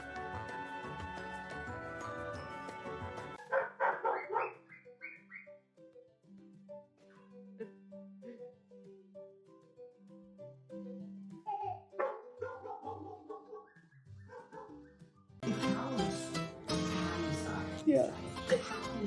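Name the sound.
puppy barking and whimpering at a baby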